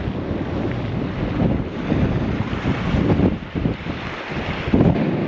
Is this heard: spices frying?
no